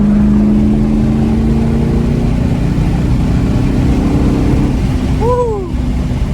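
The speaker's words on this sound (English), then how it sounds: "I just want y'all to hear the engine" A registered car's engine drones steadily while driving, a loud continuous low hum with a brief rising whine near the end.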